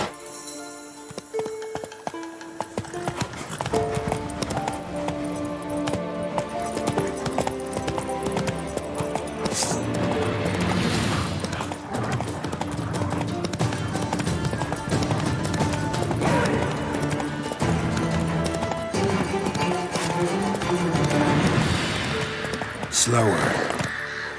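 Roach the horse galloping in The Witcher 3, rhythmic hoof clip-clops pounding steadily and close, with a rider's voice urging it on and a brief whinny-like burst near the end.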